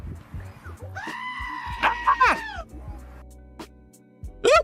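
A goat scream alert sound effect on a livestream: a loud, drawn-out bleating scream rising and wavering for about a second, followed by shorter cries, with another sharp bleat at the end.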